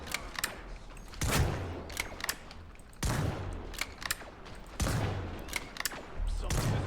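Black Widow gunfire in a video game, with repeated bursts of rapid shots separated by short gaps and interleaved with sharp single cracks, loud and close with no talk.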